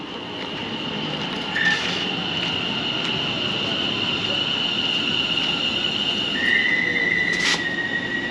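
A London Overground Class 378 electric train runs past on the line toward Clapham and Richmond, a steady rolling rumble with high wheel squeals rising near the start and again near the end.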